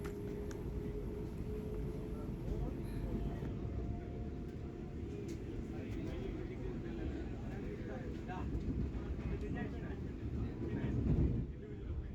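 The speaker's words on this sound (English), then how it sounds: "Well, there it is, the Podanur-Barauni weekly special train." Low continuous rumble as the Podanur–Barauni weekly special train passes, heard from aboard another moving train, a steady rushing drone with a brief surge near the end and a voice talking over it.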